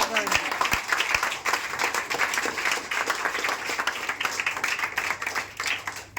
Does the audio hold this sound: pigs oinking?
no